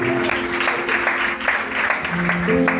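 A church congregation claps and cheers in acclaim of Jesus, with steady, dense applause filling the space while voices and music carry underneath.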